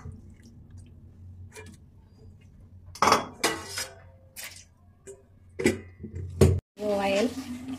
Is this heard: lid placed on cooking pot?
yes